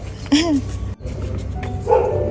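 A dog gives two short, whining barks about a second and a half apart, close by, with voices murmuring underneath.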